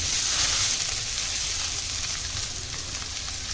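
Steady, loud sizzling of squeezed bitter gourd frying in a hot pan, a continuous crackling hiss with no voices.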